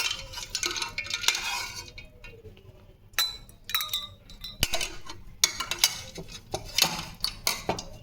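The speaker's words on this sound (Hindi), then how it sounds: "आइस क्यूब डाल देते हैं इसमें" Ice cubes dropped and stirred into a glass of chilled Rooh Afza, bright clinks and rattles against the glass in uneven clusters, close by, with faint household noise behind.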